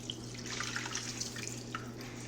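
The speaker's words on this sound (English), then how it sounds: "I'm gonna add my milk." Milk being poured into a Ninja blender over broken-up sweet potato, a steady, soft liquid stream close by, with no talking.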